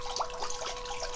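Warm water runs from a pipe in a compost-heated greenhouse, a soft continuous trickle and splash with a faint steady tone behind it.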